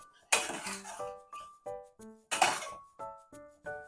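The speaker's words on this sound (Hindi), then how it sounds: "अभी हमने कुकर का लॉक हटा लिया है।" A pressure cooker of white lobia dal being opened after cooking, with a series of clear metallic clinks and clanks of the lid and pot, loud and close, arriving in separate knocks with no talk.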